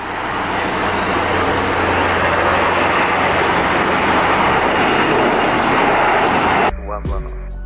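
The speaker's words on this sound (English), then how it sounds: "The Airbus A340 took off at the very last moment, just before reaching the end of the runway." An Airbus A340 takes off at the very end of a runway with a loud, sustained roar of jet engines close by. The roar cuts off suddenly near the end.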